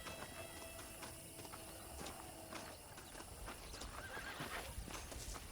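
Saddled horses in the video game Red Dead Redemption, hooves clip-clopping in a quick irregular rhythm over a busy outdoor game soundscape, with a snort or whinny mixed in.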